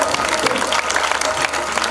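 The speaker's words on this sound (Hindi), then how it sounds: "उन्होंने वास्ते एक जोरदार ताली" Audience applause at a live Punjabi music event, a dense, steady wash of clapping with some crowd noise, loud and continuous throughout.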